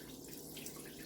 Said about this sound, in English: we're going to pour this broth on